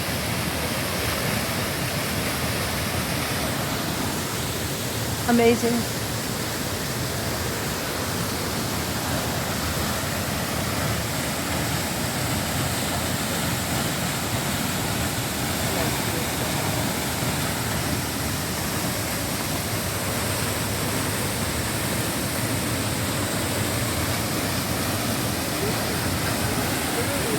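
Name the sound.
White Lily Waterfall, flowing strongly after heavy rain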